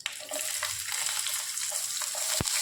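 Mutton with fennel seeds sautéing in a pan, Punjabi style: a steady, close hiss of frying with scraping stirs and one sharp clack near the end.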